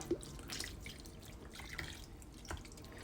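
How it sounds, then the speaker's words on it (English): Beef broth is poured over a roast beef in a home kitchen, giving soft dripping and trickling liquid sounds with a few small splashes, fairly quiet and close. "this is the beef broth. I just want to pour that all over it."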